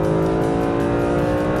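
A Mercedes SLS AMG Black Series V8 screams at high revs on a track straight, revving out to 8,000 rpm, a loud, steady, harmonic-rich roar held close throughout.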